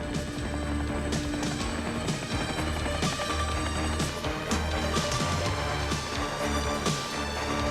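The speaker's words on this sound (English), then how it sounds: "Helicopter's in position. They're climbing out." A helicopter's rotor and engine roar steadily throughout, loud and close, with rhythmic chopping and clattering layered over a continuous mechanical drone.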